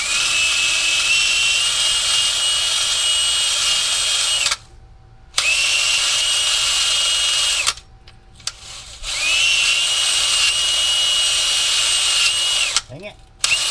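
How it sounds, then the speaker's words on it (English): A wire wheel on a power tool grinding a truck's surface, a loud, harsh, high whine running in long stretches broken by brief stops, close to the listener. "we'll just hit this surface with wire wheel"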